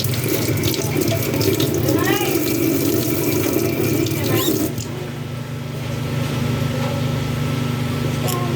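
Water running from a tap into a mineral-water container, a steady close rushing stream that continues throughout, with the filling tone changing partway.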